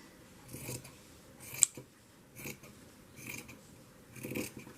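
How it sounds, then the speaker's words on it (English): Scissors trim paper for a shabby chic flea market journal, a few quiet snips and rustles spaced apart, with one sharp close cut in the middle and no talk. "So I might cut this just a little bit."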